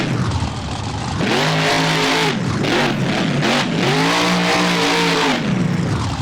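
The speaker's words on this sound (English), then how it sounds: "Yet another square body monster truck on the CRC chassis." A square-body monster truck on a CRC chassis revs hard in BeamNG freestyle at a fairground. The engine rises and falls in two loud, sweeping surges with a brief dip between them, close and continuous.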